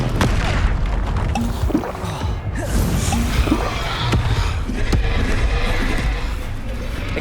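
Confringo fire-blast spells detonate in Hogwarts Legacy combat, with booming impacts and rushing whooshes layered over a constant roar of in-game battle noise.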